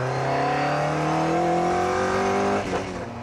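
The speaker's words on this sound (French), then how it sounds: "il y a ce moteur à l'ancienne avec des carbus" An old-style carbureted Lotus engine revs hard and rough, its pitch climbing steadily close up before easing off near the end.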